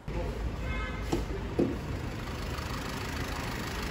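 A Mercedes E-Class W213 with a 1.6-litre four-cylinder turbo diesel idles with a steady low rumble throughout, fairly faint, with a couple of small knocks partway through.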